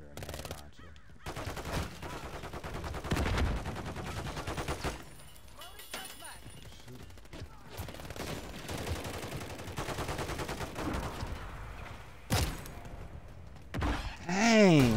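Video game gunfire crackles in bursts of sharp shots, some rapid and some single heavy cracks, loud and close, with spoken voices mixed in between.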